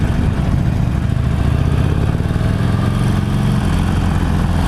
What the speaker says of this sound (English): Today I'm riding the 2016 Harley Davidson 48 1200cc.